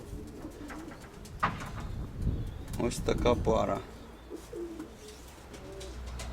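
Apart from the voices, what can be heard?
steel white-tailed pigeons cooing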